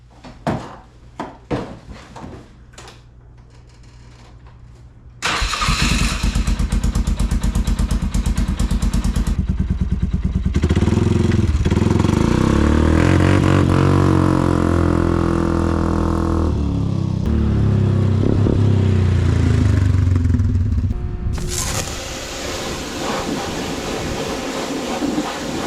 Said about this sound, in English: Let's fire this thing up, go for a little rip.